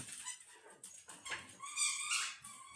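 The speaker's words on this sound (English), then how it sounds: "That's my dog." A dog whimpers and whines in short, high, faint cries, close by, with no talk.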